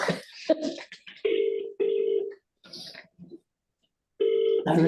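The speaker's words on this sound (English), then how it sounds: "Emma's just going to call you" A telephone ringing during a call at a community board meeting, repeated electronic ring tones in separate bursts with short gaps of silence between them, heard close and clear.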